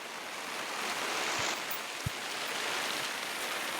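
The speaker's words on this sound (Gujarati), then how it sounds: "દોઢ વાગ્યો અતાર અને વરસાદ ચાલુ થઈ ગયો" Steady rain hisses across a surface with no talking, broken by a couple of faint low thumps.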